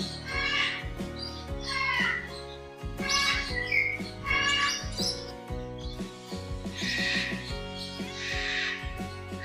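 Harsh bird squawks and calls ring out in overlapping bursts in an aviary, fairly loud and continuous, with a busy chorus of tonal cries layered over one another.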